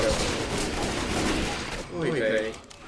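Rapid gunfire rattles through a Left 4 Dead 2 firefight on Xbox, dense bursts that blur into a constant roar, with people talking over the shooting.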